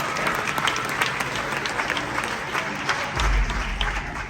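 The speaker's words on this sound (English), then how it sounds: "Round of applause for our volunteers." Audience applause greets volunteers called up onto the stage at a live show: dense, steady clapping from a crowd that carries on throughout, with a low rumble swelling near the end.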